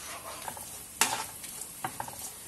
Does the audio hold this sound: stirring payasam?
yes